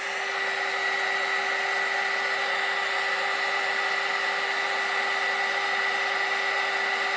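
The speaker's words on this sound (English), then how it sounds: "Obviously this is my heat gun." A heat gun blowing hot air in a flower-craft setting, a constant loud whooshing hum with a steady whine, unbroken from start to finish.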